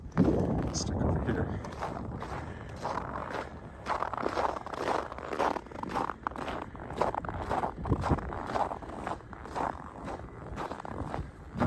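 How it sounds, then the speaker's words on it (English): Crunching footsteps on frosty, hoarfrosted ground in Regina in -19 C cold, a steady walking rhythm of close, crisp crunches with a person talking over them throughout. "I hear lots of crunching footsteps today."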